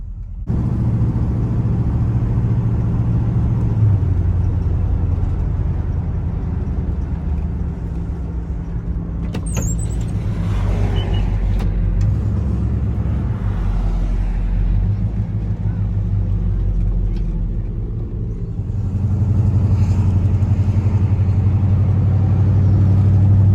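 A 1966 Buick Wildcat's engine runs while warming up on the move, a continuous loud low rumble with a slight swell toward the end and a few faint sounds over it.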